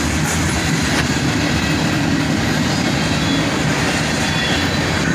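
A continuous stream of CSX freight cars passes nearby, loud and even, with rhythmic wheel clatter and a touch of squeal over the rolling roar.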